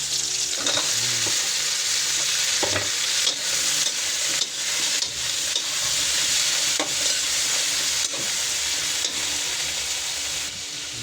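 Garlic, onion and ginger sauté together in a hot pan for a tuna-head sinigang, giving a steady, loud sizzle and crackle with occasional stirring scrapes and no talking.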